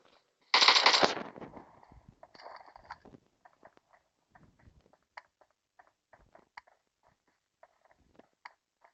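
Gunfire in the PUBG Mobile video game: a loud burst of automatic fire up front, then a long scatter of faint, distant single shots and short cracks spread through the rest.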